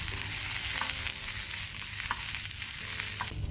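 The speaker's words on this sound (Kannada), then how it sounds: "ನಾವೀಗ ಸ್ವಲ್ಪ ಕೊತ್ತಂಬರಿ ಸೊಪ್ಪು ಹಾಕೊಳ್ಳೋಣ, ಕೊರಿಯಂಡರ್ ಲೀವ್ಸ್. ಇದನ್ನೊಂದು 2 ಸೆಕೆಂಡ್ಸ್ ನಾವು ಫ್ರೈ ಮಾಡ್ಕೊಳ್ಳೋಣ" Coriander leaves fry with garlic in a hot pan for a mutton dish, giving a soft, continuous sizzle with a few faint stirring clicks and no talking.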